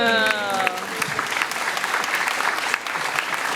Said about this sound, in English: give my mum and dad a round of applause